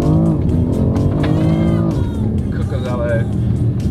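Rally car driving along a dirt field road during a Slovak rally event, with a loud, steady engine drone with shifting pitch running throughout and people talking over it.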